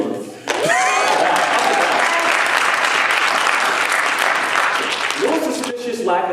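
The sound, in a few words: audience applause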